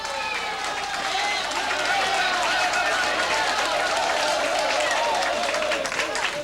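A crowd at a candlepin bowling tournament cheers and applauds loudly and continuously after a strike, with a commentator talking over the noise.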